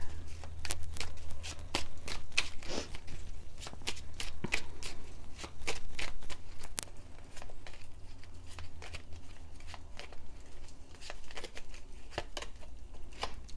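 Oracle cards from an Angel Whispers deck being shuffled and drawn, a series of quick papery riffles and slaps up close, busy at first then thinning to softer rustles, against a faint low hum.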